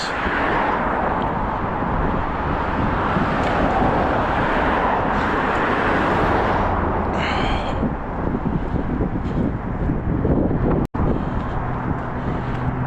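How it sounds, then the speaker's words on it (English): Strong wind buffets the microphone on an outdoor walk, a loud continuous rushing roar with gusty swells lasting throughout, and a brief sharp dropout near the end. "wind is picking up right now."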